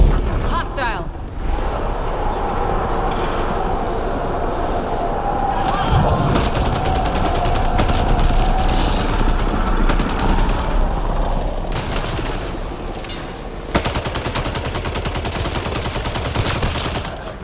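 Sustained gunfire in the shooter Mass Effect: Andromeda, with dense bursts of automatic shots and heavy impacts layered over game music and effects, loud and continuous, with brief spoken game dialogue mixed in.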